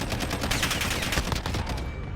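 Rapid, dense bursts of FN SCAR 17 rifle fire in a video game, loud and continuous for about two seconds with the shots running together.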